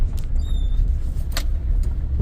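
A car drives through heavy rain and fast-flowing floodwater on a road near Nashik. A steady low rumble and broad wash of water noise run for about two seconds without pause.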